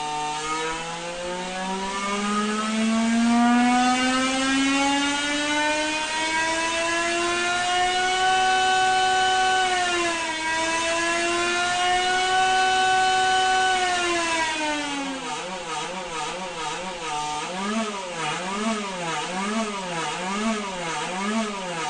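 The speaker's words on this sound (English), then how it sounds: "This could be the sound of the forthcoming engine from Honda." A loud, high-pitched Formula One 1.6-litre turbo V6 engine whines steadily upward through the revs, dips, climbs again, then wavers rapidly up and down near the end, with no voices.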